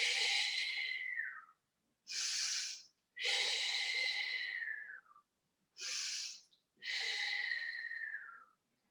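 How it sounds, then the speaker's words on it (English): Slow, deep breaths during a Pilates stretch in an osteoporosis class: five long, close, airy inhales and exhales with short pauses between them, loud and alone. "Take 2 or 3 deep breaths in."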